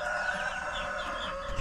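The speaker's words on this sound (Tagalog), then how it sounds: "Manok ang kasama mong naglilimlim, sister." A hen brooding over a clutch of eggs on a small farm gives a steady, nasal clucking call that runs through the whole short moment, close and moderately loud with no talking.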